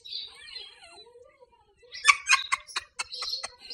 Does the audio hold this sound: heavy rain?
no